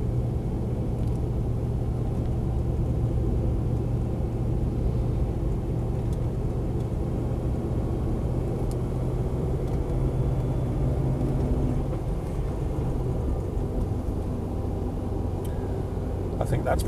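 A Land Rover 90 V8 CSW is driven, its engine giving a steady, loud low rumble throughout with constant road and cabin noise, heard from inside the vehicle.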